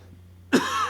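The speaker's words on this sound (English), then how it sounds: "I'm going to be coughing all night here" One sharp, close cough bursts out after a brief quiet moment, rough and throaty.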